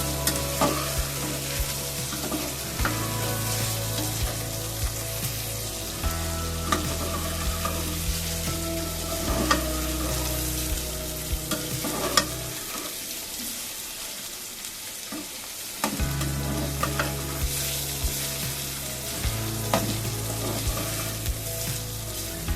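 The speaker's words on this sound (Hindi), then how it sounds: "अदरक और लहसुन के पेस्ट में हम 5 मिनट के लिए भूनेंगे ताकि ये अच्छा सा जायका दे।" Beef liver frying in ginger garlic paste in a pan, a steady close sizzle with repeated stirring scrapes throughout, and a low background hum that cuts out briefly midway.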